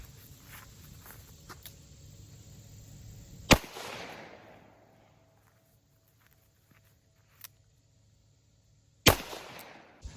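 .44 Magnum revolver firing CCI No. 9 shotshells at targets at close range: two sharp, loud reports about six seconds apart, the first trailing off into a short decay, with near-silence and faint clicks between them.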